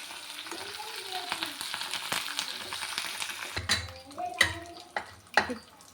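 Dried red chillies and curry leaves spit and crackle in hot oil for a tempering, a steady sizzle broken by sharp pops and several louder clanks of a utensil against the pan near the end.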